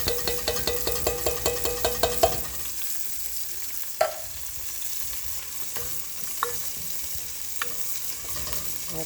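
Food sizzles steadily in a hot pan, with a run of quick rhythmic stirring scrapes at the start and a few sharp utensil clinks later, all close and moderately loud with no talking.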